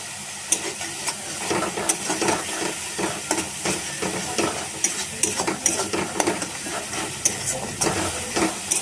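Spices sizzling and frying in a pan for a Bengali fish curry, a continuous crackling hiss broken by frequent stirring scrapes, close and fairly loud, no talk.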